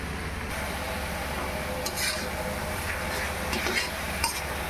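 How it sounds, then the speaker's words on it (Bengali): Ginger, garlic, tomato and green chilli paste frying for a pork curry, giving a steady soft sizzle with occasional stirring scrapes and light clinks from a pan, no talking. "এখন একটু ভেজে নেব।"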